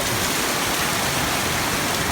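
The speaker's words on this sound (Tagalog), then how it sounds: "Lakas na po ng tubig, grabe." Floodwater rushing during heavy rain near a river at a newly occupied house: loud, dense, continuous roar of water and downpour filling the whole clip, close and steady, no voices.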